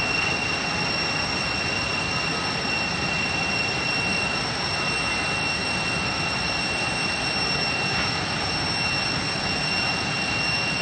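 A jet engine roars and whines steadily as a plane lands at Milas Bodrum Airport at night, a loud continuous broadband hiss with a sustained high-pitched tone throughout, with no talk.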